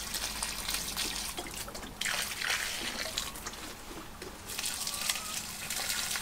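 Water trickles and splashes steadily onto vegetable garden beds, a continuous close pouring sound with small shifts in flow.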